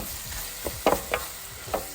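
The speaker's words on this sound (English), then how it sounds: "Now we're gonna saute this delicious vegetables, guys, until they're nice and soft." Vegetables sautéing in butter in a pan for a vegan queso dip, a soft steady sizzle broken by a few louder stirring scrapes and clatters, close by with no talking.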